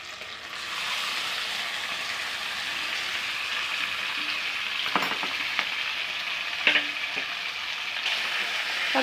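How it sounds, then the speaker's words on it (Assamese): Onion and meat frying in hot oil, a loud, even sizzle that starts abruptly and holds steady, with a few brief stirring clicks and scrapes near the middle and no talk. "তেল গৰম হৈ গ'ল, পিঁয়াজ দি দিছে। এয়া দি দিছে মাংসখিনি।"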